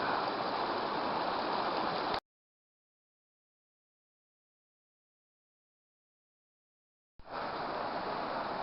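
A mountain stream rushes steadily at a river crossing on the Ekaneetlee Manway in hot weather with high water; a broad, even roar plays close by, cuts out completely for several seconds, then resumes.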